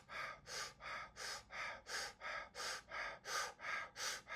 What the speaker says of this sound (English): Gentle fire breath.